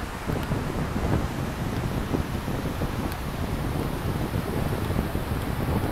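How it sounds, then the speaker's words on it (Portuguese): A south wind blows hard at Praia Brava beach in Itajaí, Santa Catarina, as a steady, rushing roar that buffets the microphone, with faint surf underneath and no voices. "Mas esse vento sul vem empurrando toda essa massa de água"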